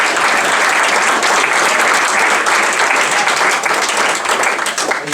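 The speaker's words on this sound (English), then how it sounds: "Why don't we give these guys a round of applause for coming up?" A loud, sustained round of applause from an audience at a real estate seminar on interior rehabbing and construction, dense clapping that holds steady throughout.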